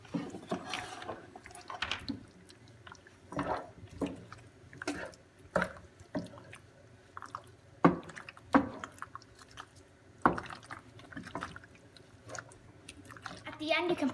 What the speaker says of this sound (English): Now we get the pasta and we put it with the ricotta, and you have to mix very well.